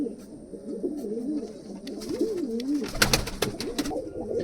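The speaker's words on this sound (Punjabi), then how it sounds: "ਇਹ ਵੱਡਾ ਕਬੂਤਰ ਆ ਜੀ ਆਪਣਾ" Pigeons coo in a steady, wavering murmur close by, joined near the end by a burst of fluttering or rustling, with no talk over it.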